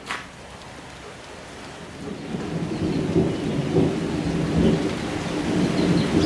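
Thunder rumbles and a steady rain falls at the start of a rainy-season thunderstorm, beginning softer and swelling into a fuller, continuous wash of rain and low rolling thunder.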